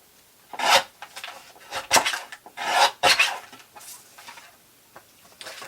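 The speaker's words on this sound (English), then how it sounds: "So I'm just trimming off probably 1/4 of an inch just to trim off those edges." Paper edges being trimmed off a pocket journal, a series of close, raspy cutting and rubbing strokes in irregular bursts, with no talk.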